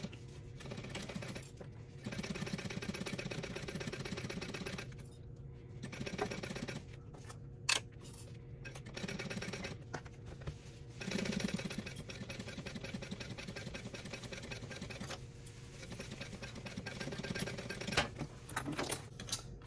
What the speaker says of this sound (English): now I need to sew this at seam allowance